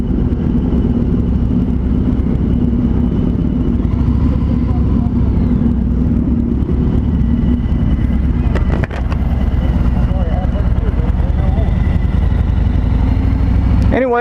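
A 2020 Harley Davidson Road King Special rumbles steadily at close range while riding, its engine drone constant and loud under wind, with a brief dip midway and people talking over it.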